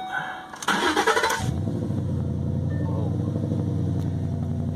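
A car engine cranks with a loud whirring starter, catches, and settles into a steady, rumbling idle close by.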